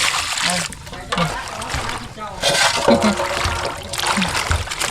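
Fish are washed in water, with splashing and sloshing near at hand, while a person talks over the whole stretch.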